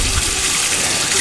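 Water gushes steadily from a tap into a container in a kitchen sink, a loud, close, continuous splashing rush over the whole moment.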